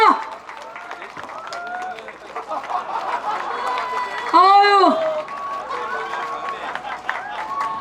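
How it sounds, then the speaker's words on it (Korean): Outdoor crowd applauding at a campaign speech outside a train station, a steady wash of clapping and chatter running under an amplified announcer's voice for several seconds. "여러분 박수 부탁드리겠습니다."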